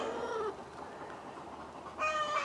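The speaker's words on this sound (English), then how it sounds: "my chickens are very loud" A few high, bright chicken calls ring out at the start and again at the end, separated by a quieter stretch of background noise.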